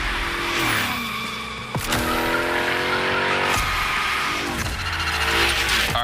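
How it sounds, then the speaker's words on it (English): Tires squeal and skid as the Hoonicorn slides through gymkhana runs in The Crew Motorfest, its engine revving and dropping between long screeching drifts, loud and close with no talking. "Let's see how you handled your first slides with the Hoonicorn."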